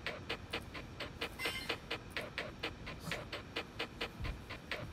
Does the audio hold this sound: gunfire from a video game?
no